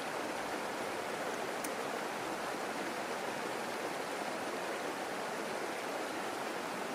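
A river rushes steadily in the open countryside near Tavy Cleave, a constant broadband wash of flowing water at moderate level with no voices.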